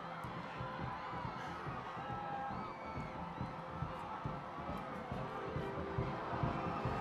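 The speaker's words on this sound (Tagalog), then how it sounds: "rinig na nga po ang hiyawan ng madlang sumasalubong" A large crowd cheers and shouts in welcome along the route of Pope Francis's first motorcade in the Philippines, with children's shrieks and whoops rising over a steady, dense roar that swells toward the end.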